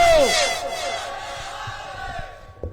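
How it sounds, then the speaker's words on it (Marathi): A large crowd at a political rally shouts and chants slogans in loud bursts, a single strong voice leading at the start before massed voices swell and roar together, fading slightly toward the end. "एवढ्या घोषणा होत आहेत एवढा उत्साह आहे जल्लोष आहे"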